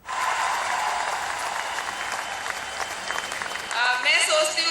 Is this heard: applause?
yes